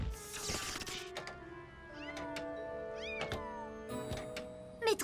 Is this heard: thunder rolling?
no